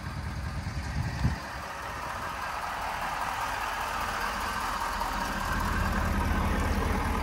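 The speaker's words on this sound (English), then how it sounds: "I'll open up the hood. You guys can hear the truck." A stock 2022 Ford F250 Lariat Tremor pickup idles steadily with the hood open, a low, even engine rumble heard close up and alone after a brief thump.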